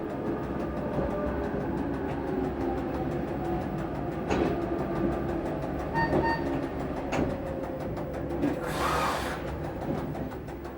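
A metre-gauge train of the Chemins de fer du Jura rumbles at Glovelier station in Switzerland, a steady low mechanical drone with faint rhythmic clicks and a brief hissing burst near the end, no voices.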